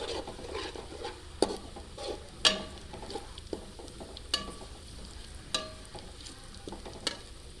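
Whole cinnamon, black cardamom and cloves frying in hot oil give a steady close sizzle, broken by a few sharp clicks and taps of a spoon against the pot, with no talking.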